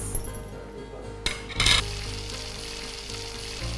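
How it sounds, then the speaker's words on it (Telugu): Chicken muttilu being added to a pan in batches for frying, a low steady sizzle broken by a sharp clink and a brief louder burst of hiss, close and without talk. "ఆ మూకుడు సైజుని బట్టి మనము ముట్టీలు బ్యాచ్ బ్యాచ్గా వేసుకోవాలి."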